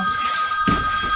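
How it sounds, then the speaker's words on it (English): A telephone rings with a steady electronic bell tone that carries through the whole stretch, fairly loud and with no voices over it. "just ignore the phone call for now."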